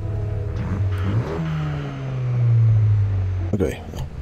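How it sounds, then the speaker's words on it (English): A car engine in the racing game Forza Horizon 5 revs with a deep, diesel-like drone, rising into a long sustained roar before dropping off, with a person talking over it. "It almost sounded like a diesel engine."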